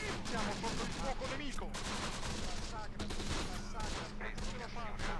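Dense, continuous gunfire from Italian Breda machine guns, rifles and a sniper in the Close Combat: The Bloody First war strategy game, a steady overlapping rattle of shots throughout, with crackling impacts and a faint voice in places.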